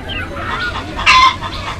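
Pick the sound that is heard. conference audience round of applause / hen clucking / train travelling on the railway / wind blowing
hen clucking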